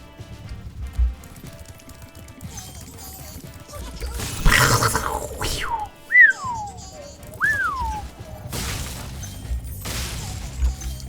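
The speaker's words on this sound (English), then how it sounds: "I'm probably waking him up by whistling in the middle of the stream" A person whistles a few short rising and falling tones in the middle of a Spyro the Dragon livestream, with bursts of game noise and thumps around them.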